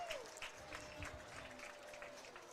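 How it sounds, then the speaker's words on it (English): The home crowd at a high school football game gives scattered, faint applause from the stands, steady clapping at a distance over about two seconds. "get some claps from the home crowd"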